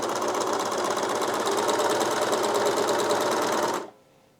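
A sewing machine or overlocker runs steadily, sewing a long thread chain with a fast, even mechanical stitching rhythm, close and continuous for nearly four seconds before stopping abruptly.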